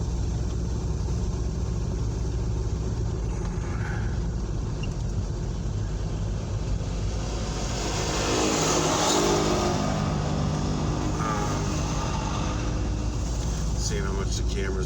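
A car being driven, with a steady, loud engine and road rumble heard from inside the cabin the whole time and a brief swell of louder road noise in the middle.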